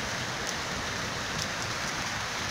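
Heavy rain pours down in a steady, dense hiss during a flooding downpour near a house with plants, loud and unbroken with no voices.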